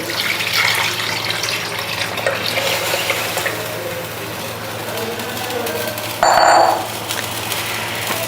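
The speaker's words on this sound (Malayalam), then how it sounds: "ഇനി ഇതിലേക്ക് ഞാൻ മൂന്നാം പാൽ ഒഴിക്കുകയാണേ" Coconut milk is poured into a pot in a steady stream, with a soft continuous splash and a brief brighter clink partway through.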